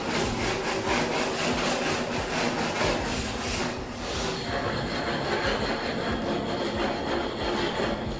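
A concrete block rubbed against a wall during a DIY home build in Jamaica: a steady, loud, gritty scraping that continues for the whole stretch with rhythmic back-and-forth strokes.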